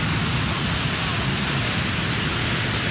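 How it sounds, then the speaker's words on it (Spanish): Cascada del Armadillo, a waterfall in Manabí, Ecuador, roars as a loud, steady broadband rush of falling water, close and continuous throughout. "Qué bonito, miren, la Cascada del Armadillo, ¿eh?"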